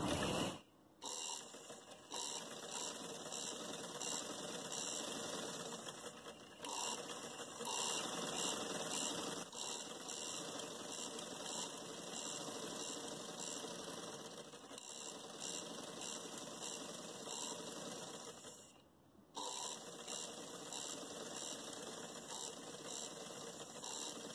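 A sewing machine runs in a long continuous stitching pass on a gharara trouser, a steady mechanical whir and clatter with brief pauses, alone and close.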